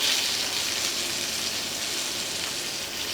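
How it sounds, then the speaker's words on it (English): Steak sizzling as it hits a good amount of hot, high smoke point oil in a pan, a steady loud hiss and crackle that runs evenly throughout with no talking. "If you don't hear sizzle, it's far from ready."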